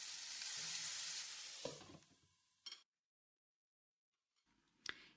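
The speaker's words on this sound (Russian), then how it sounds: "Наливаю в сковороду масло, выкладываю туда баклажаны и обжариваю их до готовности." Eggplant fries in oil in a pan with a loud, dense sizzle that fades, then a couple of sharp clatters, a stretch of silence, and one more clack at the end.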